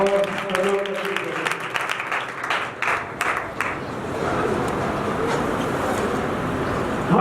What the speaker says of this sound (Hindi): जोरदार तालियां बज जाएंगे